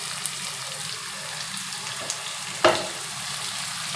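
Vegetable pulao being stirred in a cooking pot: a steady soft sizzle with faint scraping, and one louder clatter of the spoon against the pot midway.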